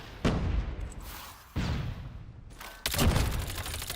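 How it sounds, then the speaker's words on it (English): Grenade blast and gunfire in a competitive shooter video game, three sharp booming bursts spaced about a second apart, each trailing off into rumbling noise, fairly loud and close. "Getting a kill with the nade as well."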